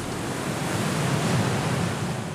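Ocean surf breaks at the Wedge in Newport Beach, a continuous, loud, broad wash of crashing waves with a deep rumble underneath and some wind noise, and no voices.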